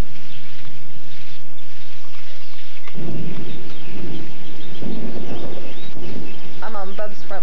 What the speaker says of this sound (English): It's starting to rain and it's really dark.